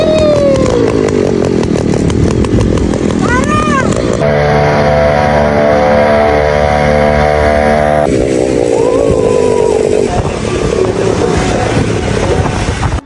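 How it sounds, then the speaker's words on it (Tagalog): Homemade long bike powered by a small 2-stroke engine, running loud and buzzy throughout with shifting pitch as it revs and settles, close to the microphone. "Medyo maingay kasi yung makina guys, baka makabulahaw ng kapitbahay."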